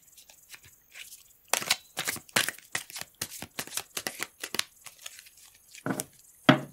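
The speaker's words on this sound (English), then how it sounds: "And one more shuffle." Tarot deck shuffled close up in a quiet indoor setting, a rapid series of sharp papery riffles and snaps lasting several seconds, soft but distinct, with no talking.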